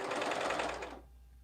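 A sewing machine stitching fabric, a rapid whirring chatter of the needle running for about a second before stopping abruptly, leaving a low hum.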